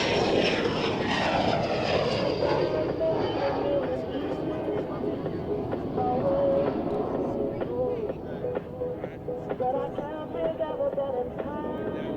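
Avro Vulcan jet bomber flying at the 2008 Waddington Airshow, its broad, steady engine roar filling the whole stretch loudly with shifting tonal whines, while a voice talks underneath.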